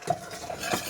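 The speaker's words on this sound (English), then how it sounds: "put in the flour, get a spoon, and mix it together" Spoon stirring flour into melted butter in a pan to make a roux, a short soft scraping swirl, close and quiet with no talk.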